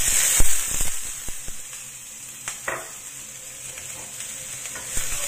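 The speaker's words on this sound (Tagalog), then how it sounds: "I-fry lang natin yan hanggang sa lumabas yung aroma ng ating garlic at saka onion" Garlic and onion fry in oil for chicken curry, a bright steady sizzle broken by several sharp utensil taps and scrapes against the pan early on, close and loud with no talking.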